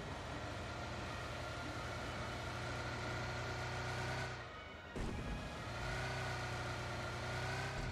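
A vehicle engine drones steadily in the mobile battle royale game BGMI, with a loud continuous hum and whine that drops out briefly near the middle and then resumes, and there is no talk over it.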